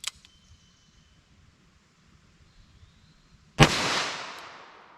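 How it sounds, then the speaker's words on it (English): A single sharp, loud gunshot from a snub-nose .357 Magnum revolver firing Corbon 140 grain XTP ammunition, cracking suddenly and then ringing out in a long decaying echo, preceded by quiet handling sounds. "Let's get a single shot with our 140 grain here."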